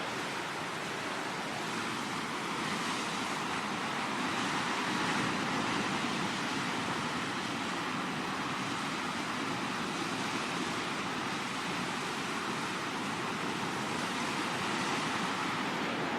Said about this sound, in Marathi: पाणी येतं आणि ते आदळतं, ती गाज पण एकदा नीट ऐकून घ्या